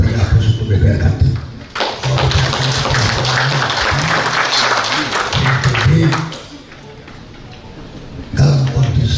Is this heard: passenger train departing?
no